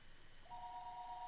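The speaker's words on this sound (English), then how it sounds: "I shouted angrily on my mother, listening to the dial tone." A steady telephone dial tone in the Higurashi video game starts partway through and holds evenly, quiet and alone with no talk over it.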